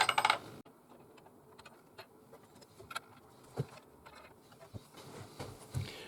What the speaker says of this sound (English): Sorted out a couple of bolts, a couple of big washers, a couple of King Charleses and another couple of washers to go on the top.